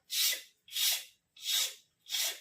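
A voice imitates a train's ch-ch sound with four evenly spaced breathy hisses, close and fairly quiet.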